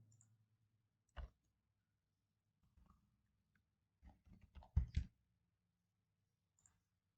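Keys on a computer keyboard are typed in a quiet room: a single tap, then a short cluster of faint, close keystrokes and a last soft tap.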